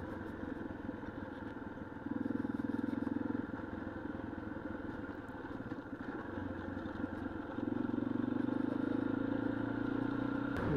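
A motorcycle with over 6,000 miles on it rides near Canyon Lake in Arizona, its engine droning steadily and close, rising in pitch and loudness at a couple of points as the throttle opens.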